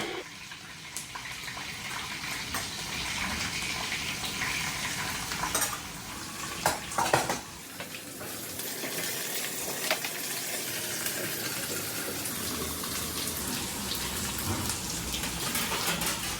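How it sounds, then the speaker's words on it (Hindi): Curry leaves, mustard seeds and onion sizzle in hot oil for Mumbai-style poha: a loud, steady crackling fry close up, with occasional sharper spits and stirring clatter and no talking. "तो कड़ी पत्ता और राई डालेंगे और फिर उसके बाद इसमें प्याज डालेंगे।"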